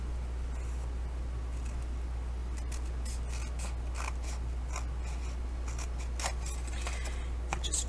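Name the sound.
scissors cutting off end of journal paper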